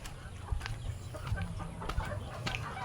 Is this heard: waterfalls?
no